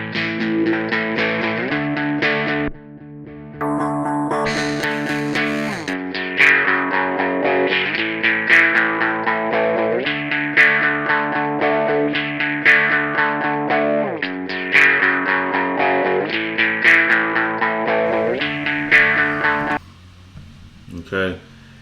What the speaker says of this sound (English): It's gonna basically make your guitar sound like you're using a pedal.